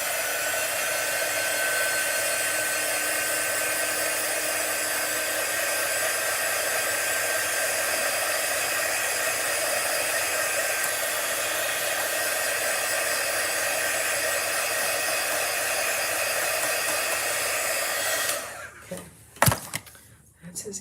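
Hair dryer blowing on chalk artwork, a loud, steady, close whir that holds for about eighteen seconds, then cuts off, leaving a few knocks and handling sounds.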